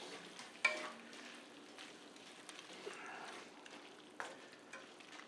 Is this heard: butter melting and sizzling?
yes